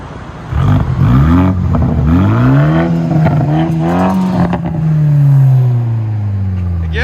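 A 2021 Toyota Supra GR with a straight-pipe dual exhaust revs loudly up close, rising and falling through several long pulls with a raspy tone, then settling toward idle.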